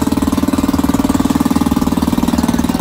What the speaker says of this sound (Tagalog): Ayan, yung generator namin. Dalawa yan, generator.